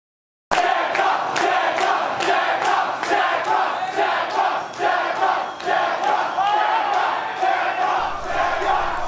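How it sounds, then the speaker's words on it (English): A large crowd at a Super Smash Bros. Melee tournament roars and cheers continuously at high volume after a sudden start, with repeated surges of shouting throughout. "let me give you a taste of an old vid I found. The crowd reacting to one of the games"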